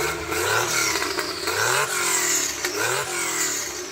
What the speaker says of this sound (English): So Becky, would you mind revving it up so we can hear it?